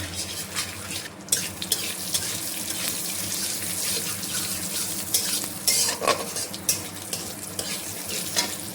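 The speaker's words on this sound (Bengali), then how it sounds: "এবার একটু ভেজে নিই, এই যে একটু জিরে গুঁড়ো দিয়ে দিলাম" Cumin powder frying in a pan, with a steady broadband hiss and sizzle under occasional stirring and clinking, at close range and with no talk.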